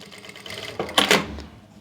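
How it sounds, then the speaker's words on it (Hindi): Sewing machine putting a light stitch along one side of the neckline of an Anarkali kurti, a short close burst of rapid needle clatter in the middle between quieter handling sounds. "पहले हमें एक तरफ हल्की सी सिलाई लगानी है।"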